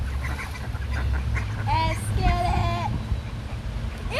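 Ducks quack outdoors in a burst of several nasal calls in the middle, over a low rumbling background and faint activity nearby, with the birds fairly close.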